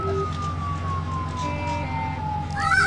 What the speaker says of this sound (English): we're getting patients from the ambulance, not the car.